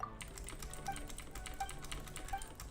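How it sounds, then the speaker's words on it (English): Computer keyboard keys clack in a fast, busy stream of close, crisp taps, continuous and fairly even in level from start to finish, with a few brighter key strikes standing out. "You hear my fucking keys clacking right like that."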